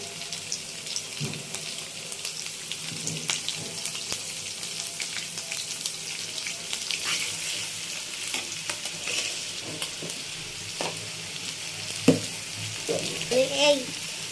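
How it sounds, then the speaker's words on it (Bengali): Prawns and vegetables fry lightly in a pan for a Bengali prawn and Malabar spinach dish, giving a steady soft sizzle with intermittent stirring scrapes and clinks throughout, close and moderately quiet. "হালকা, খুব বেশি না, একটু ভেজে নিচ্ছি।"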